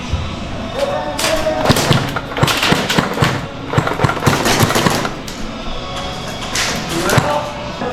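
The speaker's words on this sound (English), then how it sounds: "Good shooting, Lefty." An airsoft AUG rifle fires outdoors in rapid bursts of sharp snapping shots with dull thuds between them, loud and close across the whole stretch, while people talk in the background.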